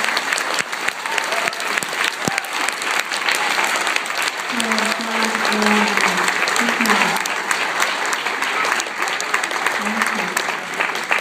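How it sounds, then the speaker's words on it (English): An audience at a school arts night gives young performers a sustained round of applause, steady clapping for about eleven seconds with some voices rising through it partway. "let's give our young people a nice round of applause."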